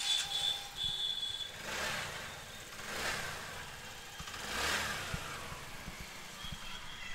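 A TVS Ntorq scooter engine with a rough, faulty-sounding note runs steadily and swells in a few soft revs. It is faint and low throughout, with no talking over it.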